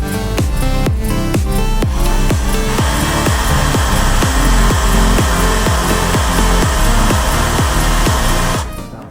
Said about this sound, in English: 65 full throttle on the drill, 78 full throttle on the drill.